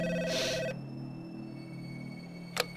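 A telephone rings in the game Max Payne 3: one loud electronic ring burst near the start, then a quiet hum, with a second short ring burst just before the end.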